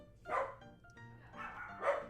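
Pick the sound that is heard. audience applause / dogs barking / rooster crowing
dogs barking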